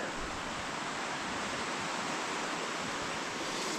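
Steady broadband rushing of a river in snowy woods, continuous and even throughout with no voices, like water flowing close by.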